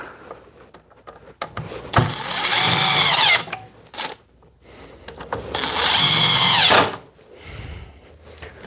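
A DeWalt DCF870 impact wrench runs during a head-to-head test against Milwaukee and FLEX tools: short whirring blips, then two loud, sustained, rattling bursts of hammering, each lasting over a second, recorded close up.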